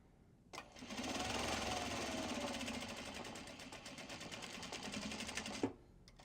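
A sewing machine runs steadily for about five seconds as it stitches obi fabric into a belt bag, its fast, even needle rhythm whirring close by before stopping abruptly.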